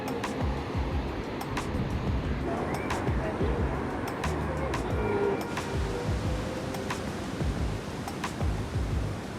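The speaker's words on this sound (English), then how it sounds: "The waves here are huge," Large waves crash on a beach in Bali at sunset, heard as a continuous low rumbling roar of surf with wind noise. There are occasional faint clicks, and no clear talk over it.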